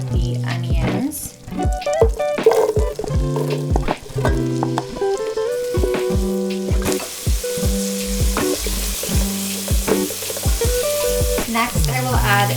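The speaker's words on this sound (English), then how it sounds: "Now I'm gonna add the onions." Chopped onions fry in a pan with a steady sizzling hiss that grows stronger in the second half, partly masked by louder tonal background music throughout.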